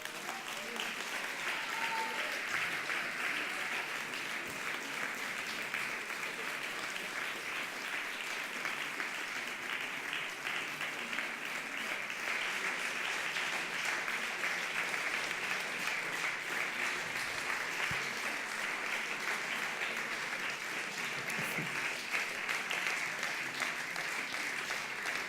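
Sustained audience applause after a lecture at a theatre conference, a dense even wash of many hands clapping that holds steadily for the whole stretch, with no voices rising above it.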